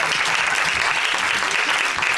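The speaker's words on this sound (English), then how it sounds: "So give a big round of applause for Charlene." Audience applause at a business event on women in B2B SaaS sales, a steady, loud, dense wash of clapping from a sizable crowd held evenly for a couple of seconds.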